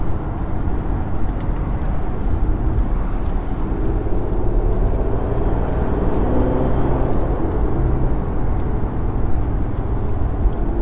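Turbocharged engine of a Brabus S650 Maybach car, heard as a loud, continuous broadband roar with a whooshing whir that swells slightly midway and holds steady without talk.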